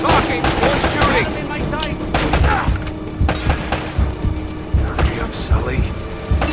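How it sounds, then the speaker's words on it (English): Rapid gunfire bursts and shots crackle through a shootout in the video game Uncharted, dense and loud over several seconds, with characters' voices breaking in between the volleys. "Less talking, more shooting!"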